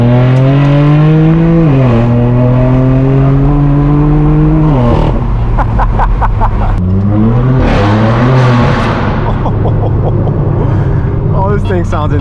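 Straight-piped BMW M4 F82 with a loud exhaust, engine roaring close up as it climbs through gears with shift dips, then crackles and revs again; the rumble stays loud and continuous.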